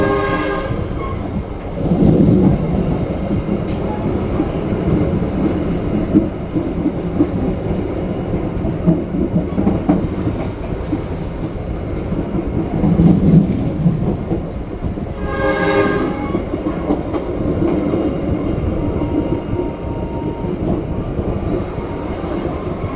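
The KA Sribilah Utama train rumbles and clatters steadily on the rails, slowing as it arrives at Kisaran station in Indonesia, with horn blasts sounding early on and again later.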